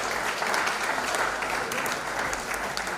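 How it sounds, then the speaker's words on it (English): An audience applauds steadily for the Executive Director of NBC at a Nigerian Export Promotion Council event in Cross River State, a dense, even wash of many hands clapping throughout with no voices on top. "Please let us clap for the Executive Director of NBC for her message."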